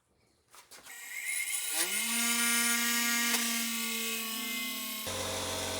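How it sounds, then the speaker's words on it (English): A cut-off saw grinds a point off the end of a guitar fret: after a few handling knocks, the motor spins up into a loud, steady whine that holds for several seconds before the pitch shifts at the end. "Now I got a point on there that I need to grind off again."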